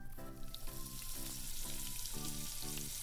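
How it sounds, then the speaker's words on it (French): Thin strips of bacon sizzling steadily in a non-stick frying pan, a constant crackle punctuated by a repeated pulsing hum, with no talking. "on laisse cuire les petits lardons sans y toucher"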